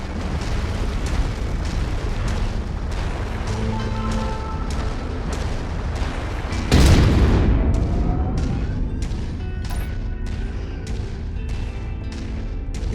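Explosions in the mech combat game MechWarrior 5: Mercenaries: a continuous loud, rumbling battle din with a heavier boom bursting in around the middle, followed by decaying debris crackle, with no talk.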